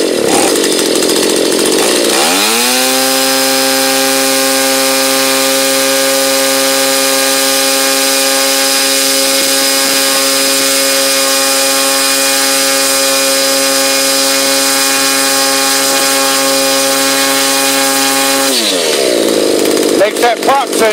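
A red Stihl 27 chainsaw engine with a touchy carburetor starts roughly, settles into a loud, steady high-pitched run for about fifteen seconds, then sputters and drops off.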